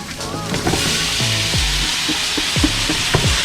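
Quorn plant-based teriyaki chicken frying on medium-high heat, a steady close sizzle with knocks and scrapes of a utensil moving the pieces around.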